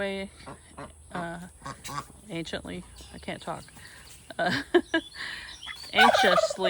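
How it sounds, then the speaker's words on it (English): Penned ducks and geese on a homestead give repeated honking, gobbling calls in irregular bursts, close by and growing louder toward the end, with a person talking over them. "And the ducks and the geese are anxiously"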